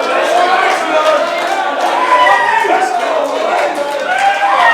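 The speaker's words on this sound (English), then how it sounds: "The crowd, very active." Crowd at a boxing press conference face-off cheering and shouting, a dense, steady roar of many voices sustained throughout, close and lively.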